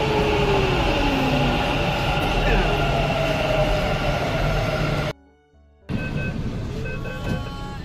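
Ride aboard a crowded metro train heading toward Lalbagh: a steady, loud rumble of the carriage with a brief drop to near silence partway through before the running noise resumes.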